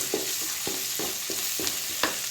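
Drumstick leaves fry in a pan with onions, a soft sizzle under a series of sharp, regular scrapes and taps from a stirring spoon, roughly two per second, close by.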